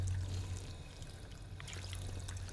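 Water trickles and pours steadily for a short moment in the video game Fallout 4, a soft continuous flow heard alone under a low electronic hum.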